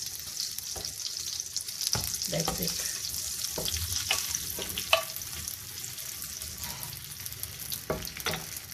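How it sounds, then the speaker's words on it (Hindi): Steady sizzling of cumin seeds frying in hot oil and butter, with occasional stirring clinks and a brief spoken remark near the end. "एक टेबल स्पून ऑयल था और 1 टेबल स्पून मैंने बटर डाला है, साथ में हाफ टी स्पून ज़ीरा जा रहा है।"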